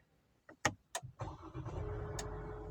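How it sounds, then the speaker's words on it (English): An MG ZS Pro small SUV is switched on: a few clicks and soft electronic tones, then a low, steady hum as the systems power up, all heard quietly from inside the cabin. "Let me just put the vehicle on."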